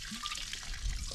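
Mountain water trickles and gurgles as a container is filled outdoors at sunset, a steady close liquid pour with low splashy rumble and no talking.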